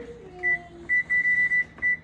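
An oven's electronic control panel beeps repeatedly while its temperature is turned down for baking sourdough bread, a series of short, clear, evenly pitched tones, some single and one held longer, standing out above a quiet kitchen background.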